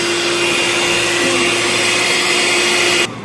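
An electric mixer beats eggs for a pineapple tea cake. It makes a loud, steady whirring hum for about three seconds, then stops abruptly.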